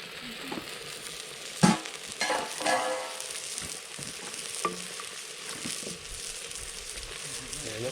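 McDonald's-style fries sizzle steadily in hot oil over a campfire, a soft continuous frying hiss with a few sharp clinks and stirring sounds on top.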